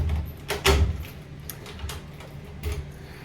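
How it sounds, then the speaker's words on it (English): A taxi door swings and thuds shut in one solid closing bang, followed by a couple of lighter knocks and rattles nearby, with no talking. "Let's close up this door."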